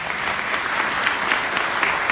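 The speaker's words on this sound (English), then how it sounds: "all of those people clapping right now, they're with you" Sustained applause from a town hall audience about gun violence, dense and steady clapping from a large crowd filling the room at an even level throughout.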